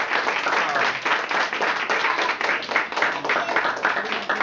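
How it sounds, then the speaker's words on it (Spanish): An audience applauds young actors after a scene from the stage play Francisca y la muerte, with loud, dense, steady clapping filling the whole stretch and no clear pauses. "Un fuerte aplauso a nuestros jóvenes actores."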